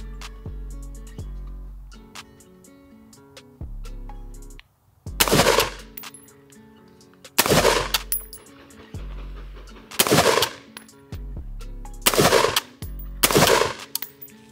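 A budget 7.62 AR pistol firing five loud, sharp shots outdoors, each a separate blast with a short echo tail, spaced a couple of seconds apart, while a steady tone plays between them.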